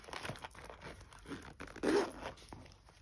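A zipper closes on a Dior Saddle double pouch, giving a faint, close, scratchy run of short rasping pulls with a slightly louder stretch near the end.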